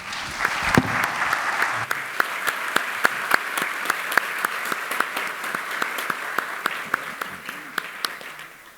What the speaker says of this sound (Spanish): los despedimos con un fuerte aplauso, por favor